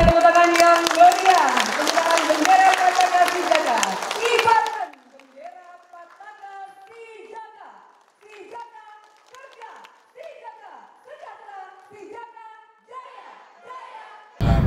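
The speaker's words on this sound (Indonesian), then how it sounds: "Mohon berikan tepuk tangan yang meriah." At an inauguration ceremony for a Kalimantan Timur organization's central board, a loud burst of crowd clapping fills the first few seconds, then cuts off abruptly and gives way to people talking.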